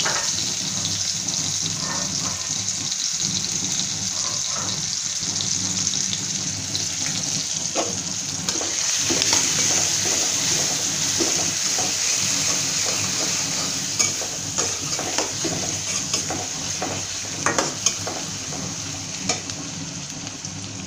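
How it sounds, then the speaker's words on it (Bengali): Chopped onions frying in oil in a hot wok in a home kitchen, giving a steady close sizzle with intermittent scraping and stirring clicks throughout, no one speaking. "কড়াই গরম হয়ে গেছে, এবারে তেল দিয়ে দেব, পরিমাণ মতো তেল। এর মধ্যে পেঁয়াজ কুচি,"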